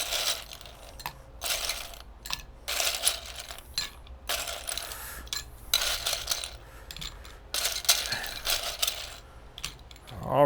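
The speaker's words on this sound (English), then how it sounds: "fill up our mixing glass with ice" Ice cubes clatter and rattle into a mixing glass while a grilled pineapple mojito is being made, in a string of close, loud bursts with short pauses, repeating for about ten seconds.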